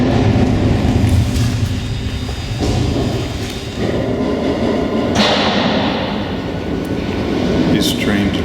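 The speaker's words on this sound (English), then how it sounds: "These trains are really loud, especially in a boxcar." A freight train rolls along heard from inside a boxcar, a loud continuous rumble and metallic rattle filling the space, with clanks and screeches cutting through now and then.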